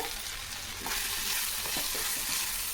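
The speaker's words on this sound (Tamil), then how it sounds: "இதெல்லாம் நல்லா வதங்கிடுச்சு" Ingredients for roadside-style salna fry in a pan with a steady, close sizzle, broken by soft scraping stir strokes of a spoon; no voices are heard.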